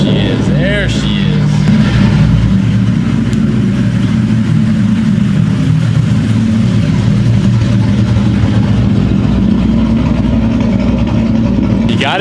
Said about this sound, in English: She does sound like a Cam's muscle car, which is exactly what I wanted.